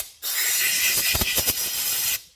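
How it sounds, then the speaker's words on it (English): Compressed air blasts a hard, steady hiss through Honda XR80 motorcycle engine parts, with a brief sputtering flutter in the middle, close and loud, starting and stopping abruptly. "clear all these out with compressed air"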